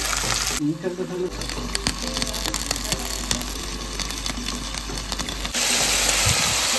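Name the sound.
capsicum, chili and tomato frying and being stirred in pan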